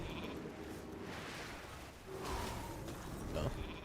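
Sheep bleats from a polymorph spell sound during a World of Warcraft arena match, a couple of short bleats mixed with spell effects and someone talking throughout.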